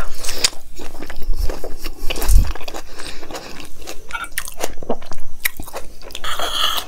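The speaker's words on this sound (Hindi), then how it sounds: "इंस्टाग्राम से देखकर अफगानी पनीर बनाया है, खा के देखते हैं कैसा है।" Someone eats Afghani paneer up close, with loud wet chewing, biting and occasional crunchy bits in a steady rhythm and no talking.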